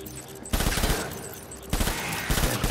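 Bursts of automatic gunfire in the Death Stranding video game, a quieter lead-in followed by two dense rapid-fire volleys with rattling shots, loud and close.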